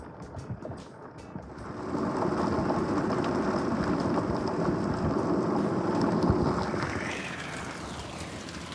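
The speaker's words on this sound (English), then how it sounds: "I love how instead of just raining out here, it hails too. So you can really hear it." Rain and hail drum on a rubber roof in Morristown, Arizona, a dense, loud, steady patter that builds after a quieter start and holds without any talk.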